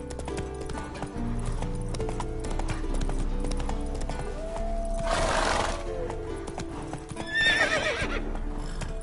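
A horse in The Witcher 3 trots with rhythmic hoof clip-clops, then lets out a loud neigh midway and a shorter whinny near the end, layered over game music and ambience.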